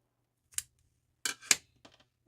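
Scissors snip off a crocheted yarn tail close to the work in a few quiet, separate cuts, with a couple of faint clicks trailing after.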